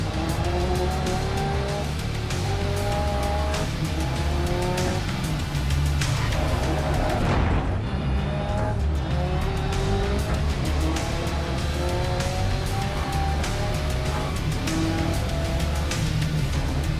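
Tires squeal and skid continuously as a race car in GRID Legends slides under the handbrake, engine droning loud and steady beneath the screech for the whole stretch, with no talk.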